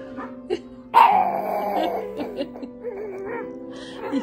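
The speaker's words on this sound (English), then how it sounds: "there's doggies on TV" Small dogs, apparently pugs, bark and yip excitedly at a television, with a loud outburst near the start followed by scattered whimpers and yaps close by.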